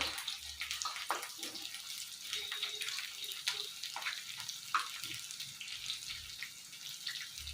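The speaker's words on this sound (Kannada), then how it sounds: "ಈಗ ಎಣ್ಣೆ ಕಾದಿದೆ ಬೆಂಡೆಕಾಯಿನ ಅದ್ರೊಳಗೆ ಹಾಕೊಂತೀನಿ" Okra fries in hot oil for masala bendi fry, a soft, continuous hiss and crackle with scattered small pops, fairly faint.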